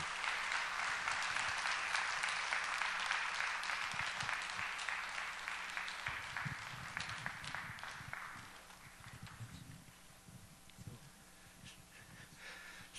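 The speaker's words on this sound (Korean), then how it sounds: "우리 박수로 한번 환영해 주시겠습니다" A seminar audience in a church hall claps to welcome a speaker. The applause is steady at first, fades after several seconds, and gives way to scattered footsteps and shuffling.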